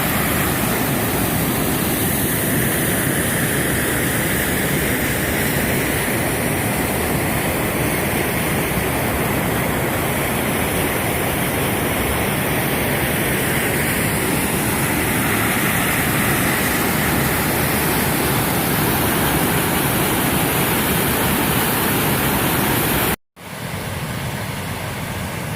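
Sycamore Falls on the Fiery Gizzard Trail roars as a dense, continuous wash of falling water, loud and near, with only a brief dropout near the end.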